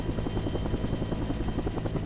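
Steady, loud rotor thrum and turbine drone fill the cabin of a military helicopter climbing toward a 3,700 m high-altitude Marine parachute jump, a continuous pulsing roar with no talk.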